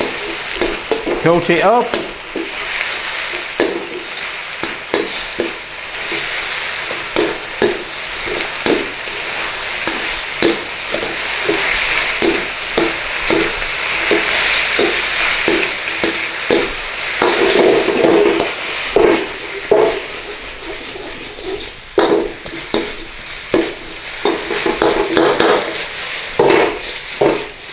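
Beef for crispy shredded beef in Peking sauce fries in a hot pan with red chilies, giving a continuous sizzle broken by frequent scraping stirs. A voice speaks briefly over it.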